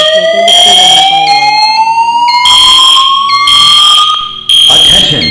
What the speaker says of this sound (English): This is my school fire alarm.